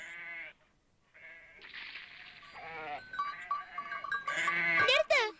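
Young goats bleat in an animated alpine cartoon dubbed in Tamil, several wavering cries following one another and overlapping into a busier, louder chorus toward the end.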